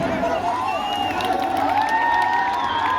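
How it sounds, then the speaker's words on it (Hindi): Crowd at a Bhojpuri film actress award event cheering and clapping, a steady mass of applause and shouts with whistles running throughout, loud and continuous for the whole stretch. "भाई तालियां बजाइए"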